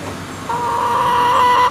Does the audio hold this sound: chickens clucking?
yes